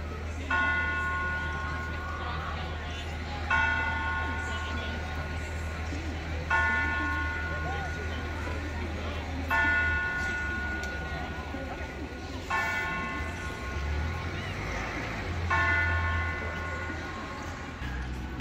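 A large bell shaped like a Hershey kiss rings at Hershey Park with about six evenly spaced rings every three seconds, each ringing on clearly, with a steady low hum of ride machinery underneath.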